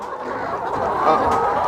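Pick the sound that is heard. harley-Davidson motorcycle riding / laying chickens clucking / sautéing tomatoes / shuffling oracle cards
laying chickens clucking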